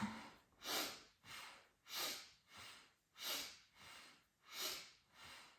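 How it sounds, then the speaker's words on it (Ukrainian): Slow, steady breaths in and out during a breathing exercise for recovery after COVID or flu, about nine audible airy breaths alternating in even rhythm, close and fairly quiet, with no talking. "Вдих, видих, вдих, видих."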